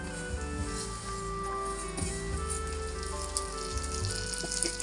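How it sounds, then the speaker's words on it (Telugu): Vermicelli (semiya) fries in a pan with a steady, soft crackling sizzle and occasional pops, close and moderately quiet, with no voice. "సేమియా వేసుకొని ఇది మంచిగా మనకు కలర్ వచ్చేదాకా మనం ఫ్రై చేసుకుందాం"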